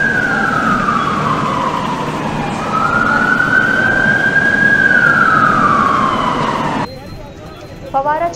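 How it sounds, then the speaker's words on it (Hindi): An awareness siren at Fawara Chowk, the Mahatma Gandhi memorial area in Chhindwara, wails loudly and steadily, dipping and rising in pitch for several seconds before cutting off, leaving quieter street sounds. "फवारा चौक यानी महात्मा गांधी स्मारक क्षेत्र में जब सायरन बजा तो क्या हुआ"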